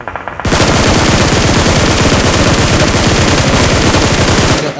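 Rapid automatic gunfire in a battle royale video game during a late-zone scrim fight, one loud, continuous burst of tightly spaced shots after a brief quieter lead-in.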